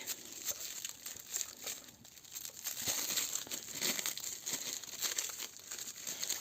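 Steady crinkling and rustling of a plastic packet, continuous and close, with sharper crackles scattered throughout and no voices.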